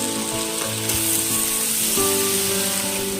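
Rohu fish pieces fry with flat beans, eggplant and turmeric powder in an oily pan, a loud, steady close-up sizzle with occasional stirring scrapes and no talk.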